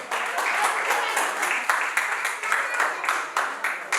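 Audience at a 10th birthday party clapping together in a steady, moderately loud round of applause.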